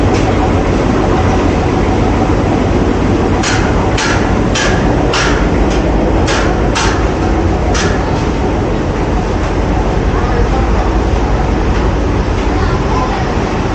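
Tea factory packing machine running, a loud, constant mechanical roar with a quick series of sharp rhythmic clacks partway through, close and filling the space.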